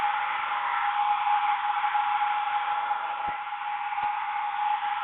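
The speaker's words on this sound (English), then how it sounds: "I'm just going to put this cool hair dryer on it" A cool-setting hair dryer blows steadily on a paint-covered Gelli plate print, a continuous close, loud airy whoosh that holds unchanged throughout.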